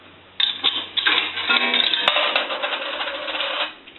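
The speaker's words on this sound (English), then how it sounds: "we're going to go ahead and do a quarter, and that will gong and fall into the cash box" A quarter drops into an AE three-slot payphone conversion with a top flag. It strikes a gong and clatters down into the cash box as one loud, close metallic rattle lasting several seconds.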